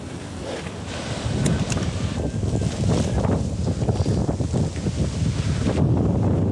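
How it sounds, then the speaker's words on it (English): Wind gusts roar steadily against the microphone, a broad rushing noise that swells and holds loud throughout, with faint rustling underneath. "A light gust of wind."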